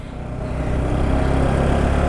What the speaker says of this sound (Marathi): चला, काकाची गाडी चालू झाली.